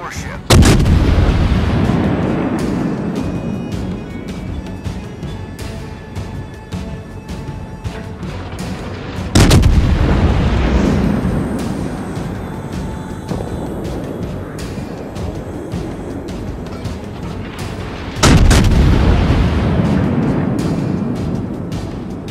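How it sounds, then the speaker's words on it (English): Heavy naval guns fire three booming salvos about nine seconds apart in World of Warships on the cruiser Baltimore, each blast loud and followed by a long rumbling decay. "Concentrate fire on the enemy warship."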